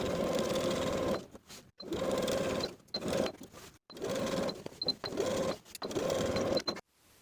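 A domestic sewing machine edge-stitches the side and bottom edges of fabric pockets, running in steady whirring bursts of about a second each with brief pauses between, close and alone.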